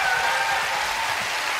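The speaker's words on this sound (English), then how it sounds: "But a big round of applause" Studio audience applauding on a UK game show, a dense, loud wash of clapping throughout with no talk over it.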